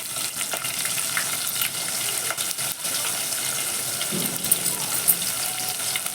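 Vertically sliced onions fry with cumin and whole spices in a pan for Hyderabadi street-style bagara rice, a dense, continuous sizzling hiss with faint stirring clinks throughout.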